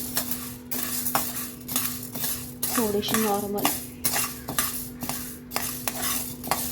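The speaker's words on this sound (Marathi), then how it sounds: "सारखं हलवत राहायचं आहे कारण कढई खूपच गरम आहे" Repeated scraping and clinking of a spatula stirring chana dal roasting in a very hot pan, steady rhythmic strokes up close, with a brief spoken remark partway through.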